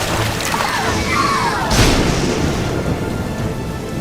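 Heavy rain and a rumbling thunderstorm in a toy-car garage play scene, with a steady loud downpour and a crack of thunder breaking through midway.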